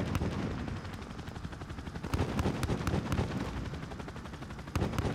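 Dense, continuous automatic gunfire from supporting aircraft strafing a tarmac in Call of Duty Modern Warfare, rapid overlapping bursts with heavy low booms, loud and sustained throughout.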